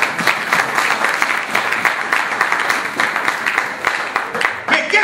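A church congregation applauds in a steady, dense wash of clapping that holds loud and close from start to finish.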